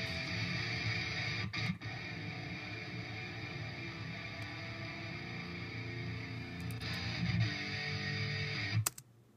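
Distorted electric guitar recorded on a laptop without EQ, playing steadily, dull and bass-heavy with a murky tone, continuing for several seconds before a brief break near the end.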